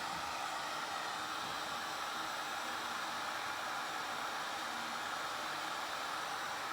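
A heat gun blows steadily while softening automotive plastic during a bumper dent repair, giving an unbroken, close, airy roar with a faint motor hum underneath and no pauses.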